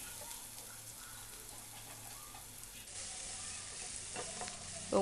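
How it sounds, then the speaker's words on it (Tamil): Finely chopped onions, cut lengthwise, frying in a pan for a homemade egg puff filling, giving a steady soft sizzle with faint stirring scrapes throughout, a little louder toward the end. "நீல வாக்கில் அதையும் நல்லா போட்டு நம்ம இப்போ வதக்கிக்கலாம்"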